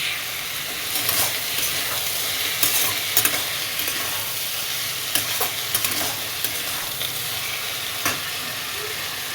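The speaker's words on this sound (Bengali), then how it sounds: "আর আলুটা ভাজা বসিয়ে দিয়েছি" Potatoes fry in a pan with a steady close sizzle and occasional stirring clicks, continuous throughout with no talking.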